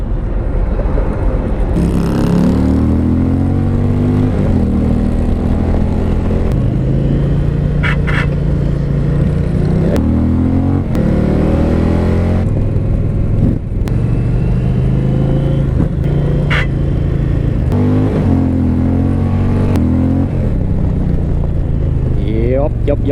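A 2020 Indian Challenger motorcycle engine roars up close through repeated accelerations, its deep exhaust note climbing and dropping between gear changes with strong wind rush, while a rider talks over it.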